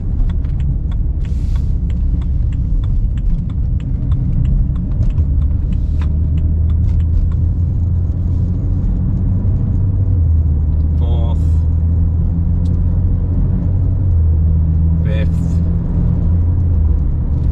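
A BMW with a swapped-in DCT gearbox and single mass flywheel drives on light throttle, its steady engine and road rumble loud and continuous as it shifts on its own, with a voice talking over it.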